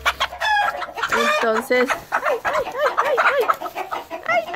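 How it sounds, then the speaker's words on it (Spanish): Hens and a rooster on a ranch cluck and call repeatedly up close, a series of rhythmic bursts with one brief spoken word over them. "Esta es la gallina."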